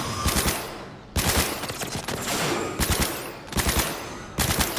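Rapid automatic gunfire from the video game Cyberpunk 2077 comes in several loud bursts separated by brief pauses, each a dense stream of sharp reports.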